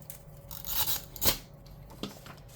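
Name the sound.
tape runner applying adhesive tape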